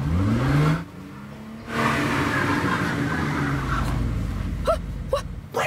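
A car pulls away and accelerates, its engine rising in a steady drone that dips briefly, then builds again and keeps whirring, with a few sharp squeaks near the end.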